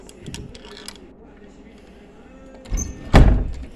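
A back door lock in a resort room is worked with a quiet mechanical rattle, then ends in a louder clack and thud near the end, all close by against faint room noise.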